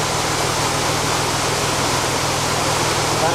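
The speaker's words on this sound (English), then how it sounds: "Water is pouring in from the gates behind." Water pours through the gates into a canal lock beside a narrowboat, a loud, unbroken roar of rushing water that stays constant throughout with nothing else over it.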